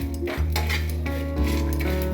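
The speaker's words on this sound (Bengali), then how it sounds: "একটু নাড়াচাড়া করব," Whole dried chillies and spices are dry-roasted in a dry pan and stirred, with steady metallic scraping and clinking of a utensil against the pan, fairly close and continuous, without speech.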